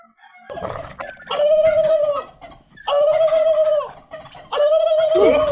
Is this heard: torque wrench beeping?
no